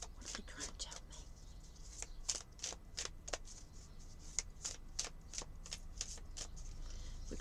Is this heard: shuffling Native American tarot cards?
yes